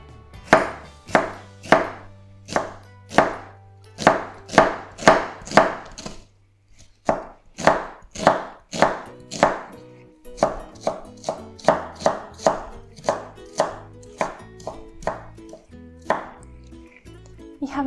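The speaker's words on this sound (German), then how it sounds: "Dann schneide ich diesen halben Zwiebeln klein" Half an onion chopped with a knife on a board: crisp, evenly spaced blade strikes in quick bursts, close and clear, with a short pause partway through.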